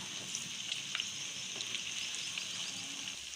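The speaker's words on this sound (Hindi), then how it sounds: "आलू को अच्छी तरह से फ्राई करेंगे।" Potato pieces frying in hot ghee for aloo karahi, a steady bright sizzle with faint crackles and pops, close and continuous.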